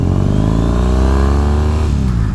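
A custom Triumph T100 cafe racer motorcycle engine revs loudly up close, its deep growl climbing steadily in pitch for about two seconds before dropping back.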